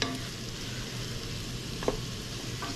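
Food sizzles in avocado oil inside a rice cooker on its sauté setting, giving a soft steady hiss with a couple of brief clinks of stirring, fairly quiet and close, with no voices.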